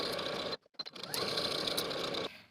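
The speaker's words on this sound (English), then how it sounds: "Sew the right side seam of your skirt at a 3/8 inch seam allowance." A sewing machine stitches a skirt side seam at 3/8 inch in loud, fast, continuous runs. A brief pause with a few clicks breaks the stitching before it resumes.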